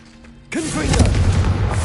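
A Confringo explosive spell in Hogwarts Legacy lands as a sudden loud boom after a quieter moment, followed by a sustained rumbling roar that carries on to the end.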